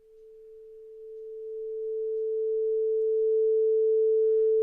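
A steady, high-pitched synthesiser tone from a homemade synthesiser holds one sustained pitch, swelling gradually louder over several seconds, alone with no other sounds.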